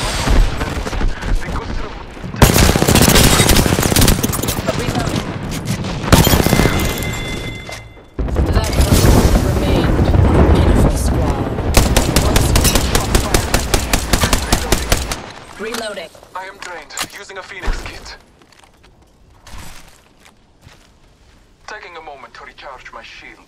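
Heavy gunfire rages in a battle royale shooter, with rapid automatic bursts, single shots and booming impacts packed close together for long stretches, then thinning to scattered distant shots, while voices talk over the action.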